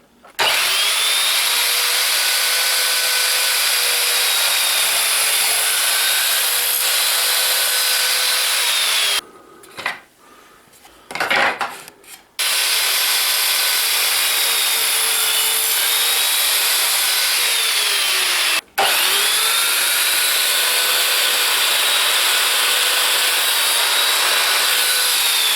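An Evolution R210CMS mitre saw whines loudly as it cuts wood in long sustained runs, broken by a short pause and a brief dropout, close and with no speech.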